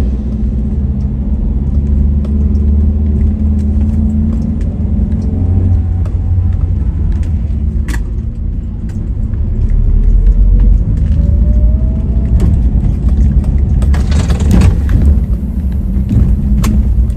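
A truck passes on the narrow road through Camba in Maros, a loud, continuous low engine rumble close by, swelling as it goes past, heard from inside a moving vehicle with steady road noise.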